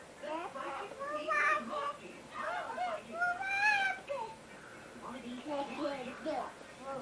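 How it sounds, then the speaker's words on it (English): A girl plays a harmonica at home in uneven, reedy bursts of wavering notes. She breathes in and out with short gaps between phrases, and the sound is close and moderately loud. "Her good harmonica player."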